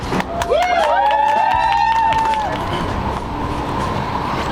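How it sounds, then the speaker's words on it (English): A rooftop audience in New York City claps and cheers, with high whoops rising over a dense wash of applause that settles into steady crowd noise. "Yes, clap it up."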